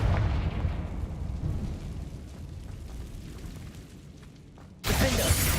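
Fiery spell blast from the Hogwarts Legacy video game, a deep rumbling explosion that fades over several seconds before a second loud burst erupts sharply near the end.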